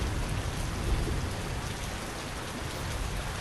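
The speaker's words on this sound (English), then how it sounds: "More seeing the rain, water effects." Dense rain sound effect in the VR demo Lucid, a loud, steady wash of hiss and patter with a low rumbling undertone, continuous throughout and without talk.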